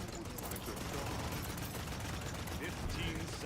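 Dense artillery barrage in a PS4 video game: a continuous, loud wash of overlapping explosions and gunfire with no clear gaps between impacts.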